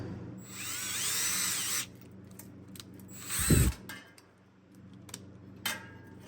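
A power drill drilling holes in a bicycle inner tube whirs in two bursts of a few seconds each, with a brief grinding thump between and a short final spin, fairly close.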